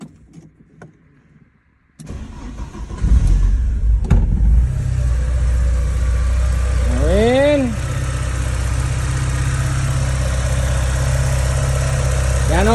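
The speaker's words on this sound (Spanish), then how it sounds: "Ya vamos a arrancar el coche." Car engine cranks and catches after a quiet moment with a few spoken words, then settles into a steady idle; a rising-falling whine from a power window or accessory sweeps by midway over the running motor.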